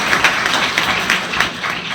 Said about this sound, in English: may I have a round of applause for them